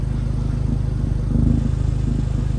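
A 4th-generation Volkswagen Jetta engine idles with a steady low rumble and a deep, even exhaust burble through a new aftermarket exhaust, close by, with no talking.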